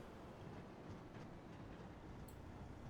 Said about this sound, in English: My little delivery train.